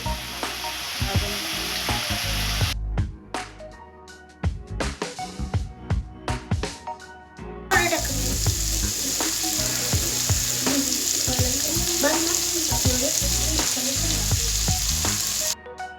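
Red chili powder and spices stirred into a hot pan of frying food, a steady loud sizzle with repeated scraping strokes of a spoon, briefly quieter midway before the full sizzle returns.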